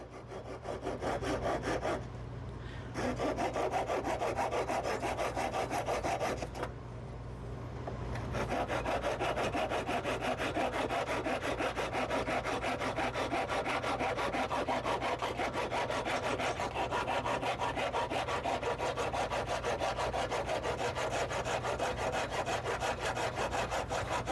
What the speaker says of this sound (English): Let's get our little handsaw out here.